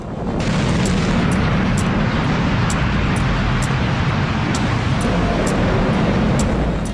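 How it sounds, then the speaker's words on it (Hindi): Continuous heavy rumbling roar from the sequential controlled-implosion blasts of the Noida Supertech Twin Towers demolition, sustained and loud for several seconds with sharp crackling bursts layered on top. "सिलसिलेवार धमाके और पूरी की पूरी बिल्डिंग जमींदोज"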